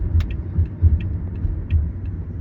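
Low, steady engine and tyre rumble from inside a car on the road, with a few soft thumps and faint clicks over the drone.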